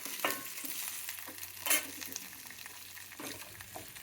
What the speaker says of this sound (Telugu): ఉప్పు వేసుకుంటే తొందరగా వేగుతుంది ఈ ఉల్లిపాయలు